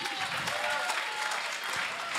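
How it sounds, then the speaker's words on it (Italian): A church congregation claps loudly and steadily in praise of Jesus, a dense wash of applause that fills the room with no break. "Let's give an applause to Jesus"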